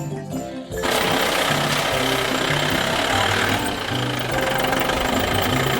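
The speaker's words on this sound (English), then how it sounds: "O for off-road vehicle." An off-road vehicle engine bursts into a loud, rough, knocking rumble after a brief quieter start and then holds steady at close range, with no talking.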